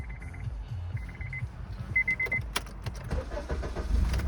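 A 2003 Honda Accord Tourer with a fourth-generation gas system and automatic gearbox starts up: a few electronic chimes, a brief starter crank, then the engine catches and settles into a steady idle, close by with no talk.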